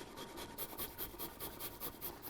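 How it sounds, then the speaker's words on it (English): Fresh garlic grated for a Hungarian chicken paprikash, a quiet, rhythmic scraping of about nine strokes, close and soft with no voices. "and we add some freshly grated garlic."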